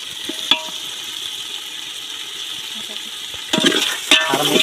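Chili powder is stirred into biryani masala frying in a pan, a soft low sizzle with a couple of sharp scraping stir strokes near the start and again toward the end.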